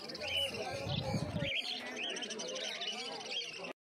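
Caged pineapple conures at the Uluberia pet market give a quick run of shrill, rising chirps and squawks, fairly close, over a low murmur of background noise before cutting off abruptly.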